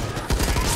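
Gunfire in the video game Back 4 Blood comes as a quick, loud burst of rapid shots lasting under a second.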